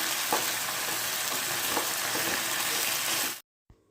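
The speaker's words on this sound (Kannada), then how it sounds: "ನೋಡಿ 2 ರಿಂದ 3 ನಿಮಿಷ ತುಪ್ಪದಲ್ಲಿ ಫ್ರೈ ಮಾಡಿದೆ" Cut crab pieces fry in ghee in a pan with a dense, steady sizzle close by, then the sound cuts off abruptly near the end, leaving silence and one small knock.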